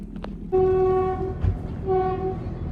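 A train passes near Sasan Gir, its horn sounding loud and close in two long blasts over a low rumble.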